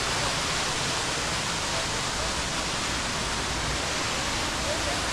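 The waterfall at Rock Garden in Karnataka gives a dense, unbroken roar of falling water, steady and fairly loud for the whole stretch, with no other sounds standing out.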